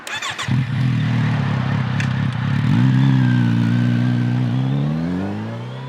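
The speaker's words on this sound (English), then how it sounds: "You start it up and it's got a lovely bark, a lovely burble to it." A 2021 Kawasaki Z900RS motorcycle engine fires up with a few sharp catches, then settles into a deep, steady burble that swells briefly with a blip of throttle before easing back, loud and close.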